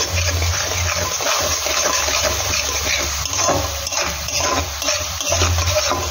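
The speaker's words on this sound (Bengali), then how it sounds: "মিক্সির জারে জল দিয়ে মিক্সিটাও ভালোভাবে ধুয়ে নেবো" Water runs and gushes steadily while a mixer grinder jar is rinsed out in a home kitchen during the cooking of dhokar dalna, a continuous close, fairly loud rush with no talking.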